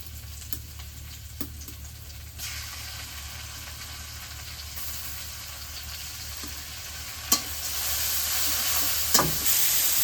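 Garlic and onion paste sizzling in hot oil in a pan, a steady close hiss with occasional stirring clatters and scrapes, no talk.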